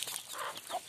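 Chickens on a rural farm in the Philippines cluck and call in a short, steady burst of close, moderately loud fowl sounds with no talking.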